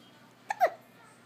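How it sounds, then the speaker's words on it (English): A baby gives two quick, soft hiccups about a tenth of a second apart against a quiet indoor background. "Do you have the hiccups?"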